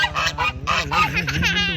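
Geese honk repeatedly close by, a quick series of brassy, nasal calls over a steady low puttering engine.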